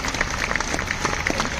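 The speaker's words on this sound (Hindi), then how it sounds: "तालियां और जोर से बजनी चाहिए।" Audience applause at an International Day of Yoga event in Chandigarh, a dense, steady patter of many hands clapping at moderate distance, continuous for the short stretch with no talking.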